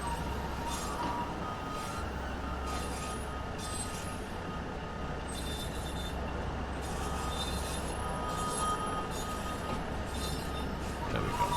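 Train in Train Sim World 2 on the Penzance–Truro West Cornwall local line, braking toward a stop: steady low rumble of rolling stock with faint wheel squeal and clinks, continuous and fairly loud throughout.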